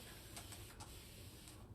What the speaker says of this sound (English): All right, I'm going to spray.